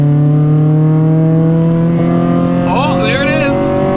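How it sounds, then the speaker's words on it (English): A Honda K24 engine swapped into a DC2 Integra revs hard, its steady drone rising in pitch as it climbs into VTEC, loud and close, with a voice briefly heard over it. "Let's see if we can hear the sweet sounds of VTEC."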